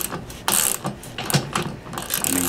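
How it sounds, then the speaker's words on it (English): A socket wrench ratchets with rapid, loud clicking strokes while installing a generator part, the pawl clicks coming in short uneven bursts close by. "This socket wrench is not doing me very well."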